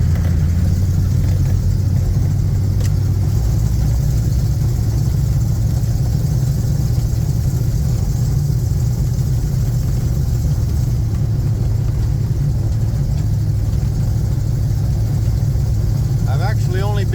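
A Bombardier Snow 75 snow vehicle's engine rumbles low and steady from close by inside the cab on a frozen lake, a continuous heavy drone that holds throughout, with brief talk near the end.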